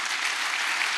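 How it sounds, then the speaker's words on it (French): A church congregation breaks into applause, a thick and steady wash of many hands clapping together at close range. "Est-ce qu'on peut acclamer le Seigneur?"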